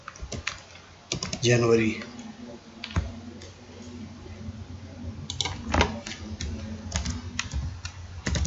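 Keyboard typing while entering an attendance sheet in Microsoft Excel: bursts of quick, close clicking keystrokes, some louder taps standing out, with someone speaking Hindi over part of it.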